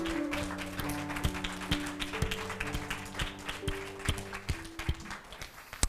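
A youth congregation at a church worship service claps in scattered, uneven bursts over sustained background music tones, the claps quiet and somewhat distant.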